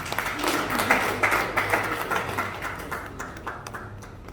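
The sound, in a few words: audience clapping for Marcella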